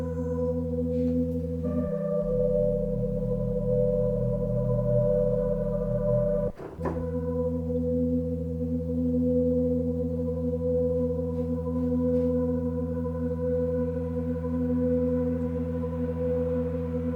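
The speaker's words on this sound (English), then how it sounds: "Let's try some sine wave oscillators." Steady, pure sine wave oscillator tones from a Prophet X synthesizer hold sustained pitches, with a low note shifting partway through and a brief click interrupting.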